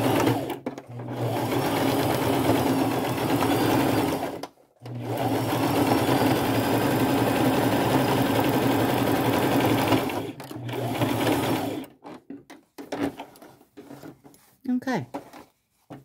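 A sewing machine running a zigzag stitch over an old flannel shirt, a loud, close, steady whir in two long runs broken by a short pause, then stopping, with brief handling noises and a voice at the end.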